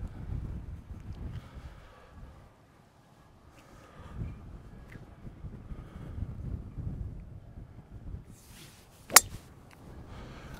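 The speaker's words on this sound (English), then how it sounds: "The wind is, not good, let's be honest." Wind gusting across the 18th hole, a par 5 on a golf course, buffeting the microphone in low rumbling waves, with a sharp click near the end.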